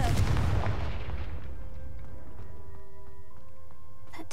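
A Confringo blast spell bursts in a video game cave, a loud boomy explosion that decays over a few seconds into a ringing, tonal tail with scattered clinks of debris, no voices.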